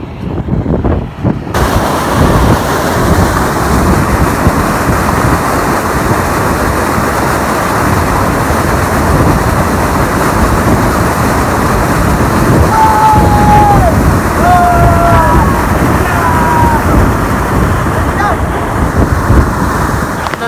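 Loud, steady rush of sea waves surging against a fast-moving boat, mixed with constant wind buffeting the microphone across the whole stretch.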